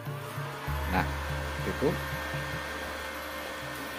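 A welding machine with a fault that keeps it from striking an arc is switched on, and a low steady hum starts and runs under someone talking and a few light clicks and knocks.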